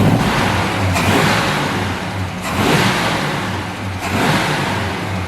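A barn-find XC Cobra engine runs steadily just after its first start in six years, a loud, close, rough mechanical roar with periodic swells in revs roughly every one and a half seconds.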